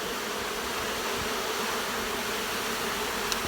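A mass of honey bees swept off a honey house window, their buzzing forming a steady, dense drone close by. It runs evenly throughout, with one tiny sharp tick near the end and no voices.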